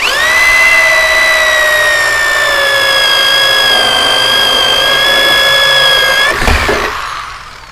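A power drill whines steadily at high speed as a hole saw cuts through a plastic aeroponics tower, then winds down abruptly near the end.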